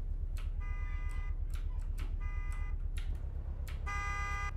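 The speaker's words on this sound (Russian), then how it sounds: "Нормальный звуковой сигнал хороший." A BMW 6-Series GT G32's horn sounds in Euro Truck Simulator 2 as a series of short, bright honks, some single and some doubled, over a steady low engine drone.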